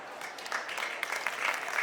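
Clapping from a congregation gathered for a Jain religious discourse, a dense and continuous patter with a few sharper individual claps standing out near the end.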